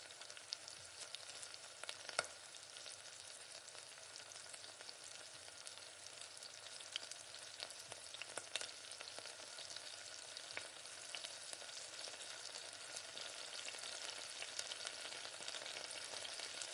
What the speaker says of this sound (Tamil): இப்போ தக்காளிய இது கூட சேர்த்து நல்லா வதக்கிக்கங்க.